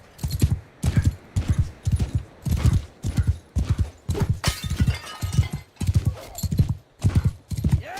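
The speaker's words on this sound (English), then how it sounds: "It does suck that they give you such a slow horse." Horse hooves clip-clopping in the video game Mount and Blade Bannerlord, a steady rhythmic trot of clear close hoofbeats with a brief neigh-like sound midway and no talking.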